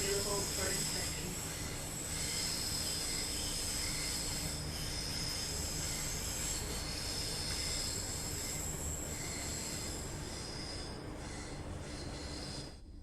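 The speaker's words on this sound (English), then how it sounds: "I'm sad that the train sound cuts out completely when you're in the cab, though." Train running in the video game Train Sim World 2, a continuous steady hiss and rumble of rolling stock with high metallic wheel squeal sustained throughout at a moderate level.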